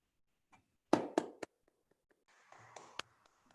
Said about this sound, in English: I hope you can hear our claps from Australia.